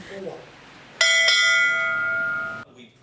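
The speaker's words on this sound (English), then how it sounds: "The bell was rung 15 times for each life lost in Tasmania since 1859." A firefighters' memorial bell in Tasmania is struck once, giving a loud, clear metallic ring that sustains for over a second before being damped, with faint speech just before.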